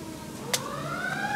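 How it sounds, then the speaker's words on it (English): A distant emergency vehicle siren from a busy street wails with a rising tone behind a quiet indoor background, briefly interrupted by a soft click. "Sorry about the sirens."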